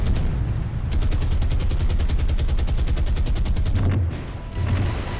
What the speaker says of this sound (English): because we are firing at point blank now